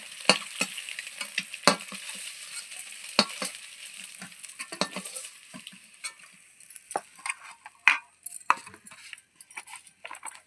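Eggs frying in oil in a pan for egg curry, crackling and sizzling up close with sharp spatter pops, mixed with intermittent scraping and clinks of a utensil against the pan.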